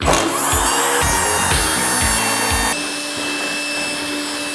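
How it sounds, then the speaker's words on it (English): A handheld router cutting wood freehand on a big work table, a loud, steady high-pitched whine with rhythmic dips as the bit bites into the wood, then a slightly lower steady run. "it's my first freehand with the router ever"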